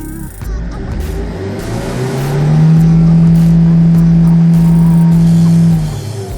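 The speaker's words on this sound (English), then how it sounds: "can you hear the engine sound one more time?" A 2009 Kia Bongo III 1.2-ton diesel truck with manual transmission revs up, its engine note climbing into a loud sustained drone that holds for several seconds before easing off.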